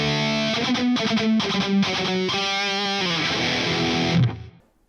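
Distorted electric guitar chords ring out through a Marshall JCM 800 amp pushed by a Tube Screamer with added reverb, strummed in a driving rhythmic pattern before a final chord rings and fades out.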